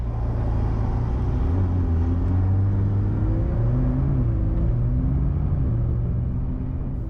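A McLaren 570S Spider sports car with its roof off drives along a road, its engine a steady, loud low rumble with rising and falling tones as it accelerates and shifts, heard from inside the cabin with no talk.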